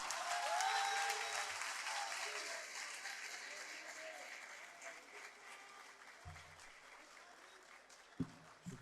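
A mushaira audience in Lahore breaks into sustained applause to welcome the Urdu poet Wasi Shah, loud at first and slowly thinning out, with a few scattered claps and knocks near the end.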